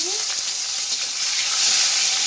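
Chopped tomato and green chilli hit hot oil in a pan, already holding bay leaf and dried chilli, and give a loud, close, hissing sizzle that swells toward the end.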